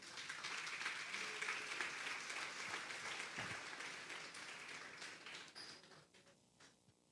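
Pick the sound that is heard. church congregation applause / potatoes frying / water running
church congregation applause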